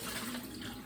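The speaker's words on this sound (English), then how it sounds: "I'm gonna start by rinsing everything off" Tap water running steadily as milk bottles are rinsed at a sink on a dairy farm, a continuous splashing flow with no voices.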